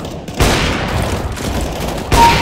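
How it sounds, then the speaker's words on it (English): Gunfire rings out in CS:GO on Dust 2 deathmatch, including a no-scope sniper headshot: loud, close shots with heavy booming tails, one early and another near the end, with no talk over them. "Nice, I got a headshot no scope."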